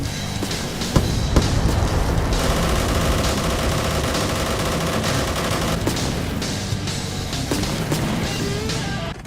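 Gunfire in the Roblox game Military Tycoon: dense, rapid bursts of shots and impacts crackle loudly and almost without a break, with a few sharper bangs standing out.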